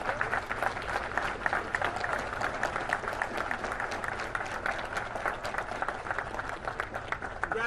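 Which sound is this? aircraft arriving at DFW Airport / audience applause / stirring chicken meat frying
audience applause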